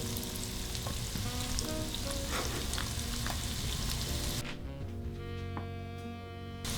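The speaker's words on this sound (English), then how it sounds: "Add the finely chopped shallot." Finely chopped shallot frying in melted fat in a pan, a dense, loud, steady sizzle close up with a few faint clinks; partway through the hiss drops back to a softer crackle over a low hum.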